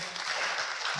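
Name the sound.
applause in a church service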